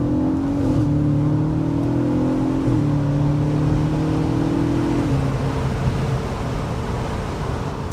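A naturally aspirated 4.2 V8 engine in an Audi RS4 Avant B8 revs hard and close, its pitch climbing and then dropping sharply with each downshift, continuous throughout.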